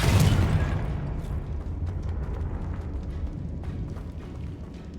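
A fire spell detonating in the Hogwarts Legacy video game, a loud booming burst at the start that leaves a long rumbling, crackling tail fading slowly over several seconds.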